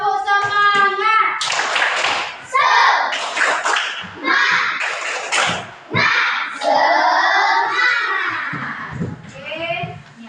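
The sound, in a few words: children doing a rhythmic spirit clap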